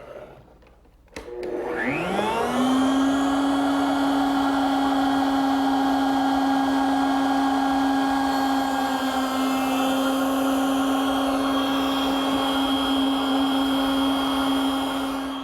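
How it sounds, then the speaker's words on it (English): A router table spins up to a loud, steady whine as a workpiece is lowered onto the bit and pushed through while building a wooden jewelry case; the motor tone holds constant and dominant throughout, with no talking. "I have to drop the piece over the bit 1/4 inch in front of it and then push it through."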